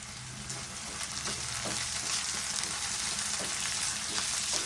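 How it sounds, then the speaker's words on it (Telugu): Garlic pieces and curry leaves frying in hot oil for a mushroom curry, a steady loud sizzle with periodic scrapes of stirring throughout, no voices. "ముందుగా కట్ చేసి పెట్టుకున్న వెల్లుల్లిపాయల ముక్కలు మరియు కరివేపాకు వేసుకొని కలుపుకోవాలి"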